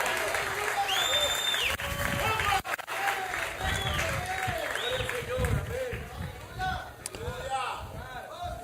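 Church congregation applauding at a Spanish-language worship message, with loud sustained clapping, shouts and cheering from the crowd, and voices talking and calling out throughout.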